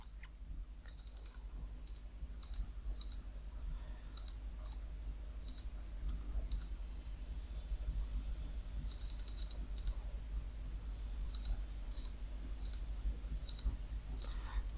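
Someone types a command on a computer keyboard, a quiet, near run of rapid key clicks coming in short bursts with brief pauses, over a low background hum.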